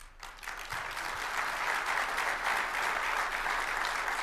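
Steady audience applause at a Reserve Officers Association symposium in 2012, a dense, even wash of clapping that holds at full strength for several seconds with no talk over it.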